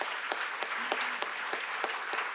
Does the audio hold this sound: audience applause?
yes